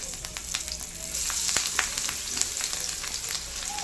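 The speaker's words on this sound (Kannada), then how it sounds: "ಸೊ ಇವಾಗ ಎಣ್ಣೆ ಚೆನ್ನಾಗಿ ಕಾದಿದೆ. ಇವಾಗ ವಿಡಿಯೋದಲ್ಲಿ ತೋರಿಸ್ತಿರೋ ಹಾಗೆ ಒಂದೊಂದೇ ಬಿಡ್ತಾ ಇದ್ದೀನಿ" Slices of bitter gourd fry in hot oil, giving a close, steady sizzle with sharp crackles and spits. The sizzle grows a little denser partway through, with no one talking.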